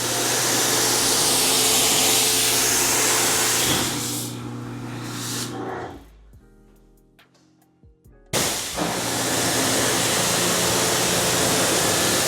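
A pressure washer rinses cleaner foam off car wheels and tires, producing a loud, steady hissing spray that drops away briefly to near silence, then bursts back at full strength.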